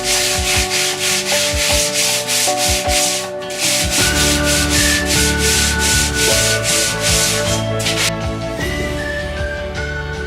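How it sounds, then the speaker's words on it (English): Steady, loud scratchy rubbing of sandpaper against wood on a catamaran build, continuing without pause, with a low machine hum beneath it. "Sanding off."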